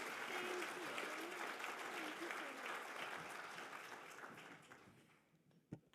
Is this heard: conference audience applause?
yes